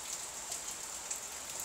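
Steady rain during a storm at night falls around a cabin, a dense, even hiss of drops on surfaces with no pauses or voices.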